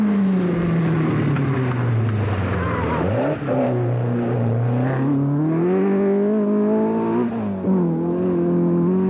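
Short-wheelbase rally cars race along narrow roads lined with stone walls at the 1984 Costa Smeralda rally. One engine's pitch climbs and dips through gear changes and then falls away, with a steady rumble throughout.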